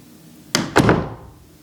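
A hand-hung wooden door swings shut with a sharp thunk, then a second solid knock as the latch seats firmly, close and loud in a quiet room with no rattle.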